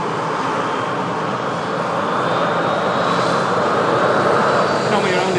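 An Emirates jet airliner at an airfield, its engines giving a loud, steady broadband roar that swells slightly toward the end, with faint talk underneath.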